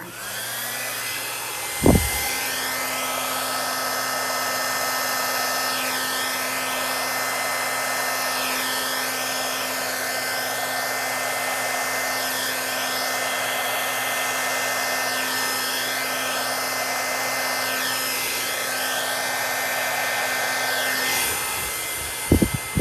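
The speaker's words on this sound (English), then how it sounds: "just to kind of spread it out a little bit before I use my blow dryer" A hair dryer roars steadily at close range during acrylic pour painting, a constant whooshing whine that runs on with a click as it starts and stops.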